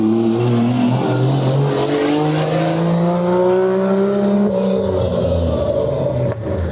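A race-ready BMW E36 engine roars loudly up close, its pitch climbing steadily through the revs with a faint tire squeal. The engine then settles lower near the end, with no talking.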